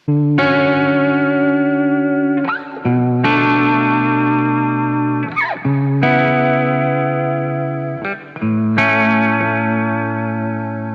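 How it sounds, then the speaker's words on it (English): A distorted, saturated electric guitar run through tape machine emulation strums sustained chords in four long phrases, with a warm, slightly gritty lo-fi character and short pauses between changes. "pushed through the tape machine as well, and that sounds like this"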